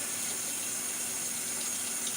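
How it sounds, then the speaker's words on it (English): Hot tap water runs steadily for rinsing out a well-used container, a continuous close hiss of flowing water at even loudness with no talk. "just gonna rinse this out a few more times with hot water"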